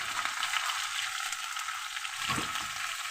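Potatoes frying in a pan with turmeric added give a dense, even sizzle throughout, with a soft scrape of stirring near the end and no one talking.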